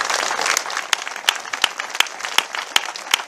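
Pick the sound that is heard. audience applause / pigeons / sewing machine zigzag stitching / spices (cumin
audience applause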